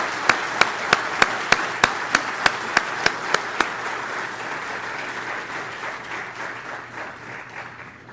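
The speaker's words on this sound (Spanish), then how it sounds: "para hacer esa bienvenida calurosa pido el aplauso de todos ustedes" Conference attendees at an international meeting give warm welcoming applause, a full room of clapping, while one close pair of hands claps loud and evenly for about a dozen beats before dropping out under the continuing crowd.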